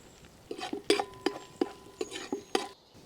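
Green chillies going into ginger paste in a pan for egg dum biryani, where a metal spoon clanks and scrapes against the pan in a run of sharp, close knocks over a faint low sizzle, with no voices.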